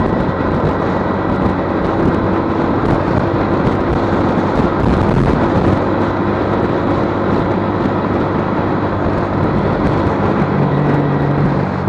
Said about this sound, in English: I do love the sound of this 125, the aftermarket exhaust